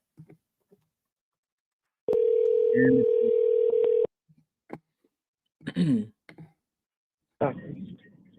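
An outgoing phone call rings and waits for pickup: a steady two-second ring tone sounds loudly, then a pause, followed by scattered clicks and brief voice fragments in the line.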